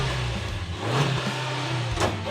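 A Suzuki Jimny with an aftermarket exhaust revs close by, a steady mid-pitched engine drone that swells and eases in short throttle blips with no talking over it.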